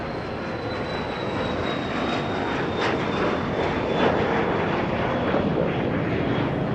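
A Phenom jet departing runway 13 left at Dallas Love Field Airport at night, its engine roar a steady, moderately distant broadband rush with a faint high whine, heard without talk.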